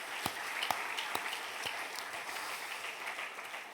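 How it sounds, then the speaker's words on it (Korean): A church congregation claps at an early-morning service, a few sharp, distinct claps at first, then a faint, even patter of applause, quiet and somewhat distant. "우리 단기 선교팀 잘 다녀오시도록 우리 힘찬 격려의 박수 한번 보내시겠습니다"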